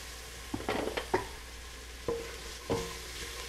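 Onions and garlic sautéing in a pot for tomato vegetable soup, a soft steady sizzle broken by a few sharp scrapes and clatters of stirring, close by and moderately quiet, with no voices.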